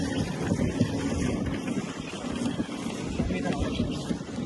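Wind buffets a boat on the water at Hatta Dam, a steady rushing roar against the microphone with low rumble, close and continuous, while people talk faintly underneath.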